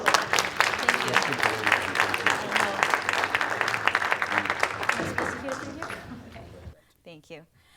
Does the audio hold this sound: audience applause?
yes